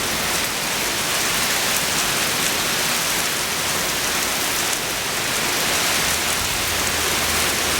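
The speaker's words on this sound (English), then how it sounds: "it's raining quite a bit right now" Heavy rain pours down steadily during a pop-up thunderstorm, a dense, unbroken hiss of drops drumming on surfaces close by, loud and constant throughout with no voices.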